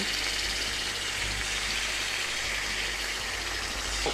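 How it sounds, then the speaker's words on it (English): Tofu bacon frying in a little oil in a frying pan over low to medium heat, a steady broadband hiss and crackle of sizzling, close and continuous with no talk. "And it's gonna sizzle a bit."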